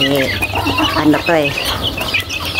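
Chickens cluck and chicks peep close by in a busy, overlapping stream of calls.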